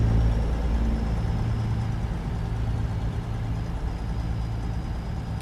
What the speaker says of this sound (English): Detroit Diesel DD60 straight pipe